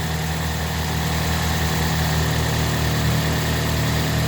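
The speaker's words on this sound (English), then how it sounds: "Okay, with the motor running." A 2010 Toyota Yaris engine idles close by with a steady, even low hum and faint vibration, unbroken and alone throughout.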